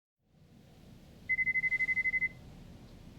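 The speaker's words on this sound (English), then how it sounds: "Phone ringing." An in-game telephone in Lost Judgment rings in a quick string of about ten electronic beeps over a low room hum, heard clearly with no voices.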